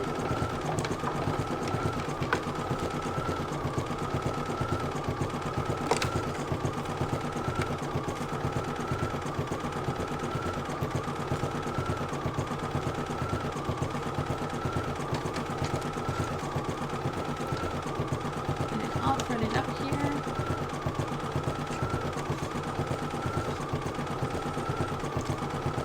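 An embroidery machine stitching with blue Isacord 4410 thread and a jumbo bobbin runs steadily throughout, its fast rhythmic needle chatter and motor hum close and even, with no talking.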